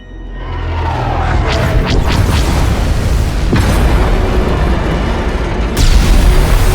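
Loud explosions from incoming fire aboard a starship in the video game SWTOR, with deep booms, bursts and rumbling blasts packed together over the whole stretch, a sharp new blast hitting near the end.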